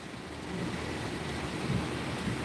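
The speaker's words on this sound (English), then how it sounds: "You can hear the thunder." Low rumbling thunder rolls through steady heavy rain during a typical Florida afternoon storm, a continuous broadband wash with deeper swells, recorded outdoors with no speech.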